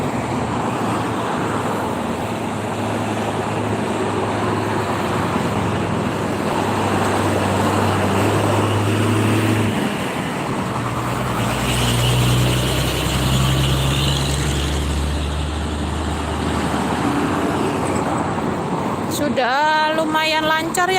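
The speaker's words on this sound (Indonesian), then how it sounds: "Oh, ada truk gede." Large truck rumbles past amid congested toll-road traffic on the highway toward Jakarta, a low steady engine drone with idling vehicles around, ending in a short burst of clatter.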